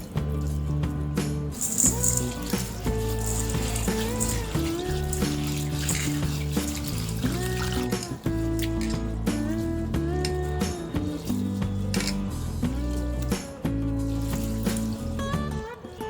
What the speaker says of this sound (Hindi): इसमें हम पानी डालेंगे और 2-3 बार अच्छी तरह से धो लेंगे।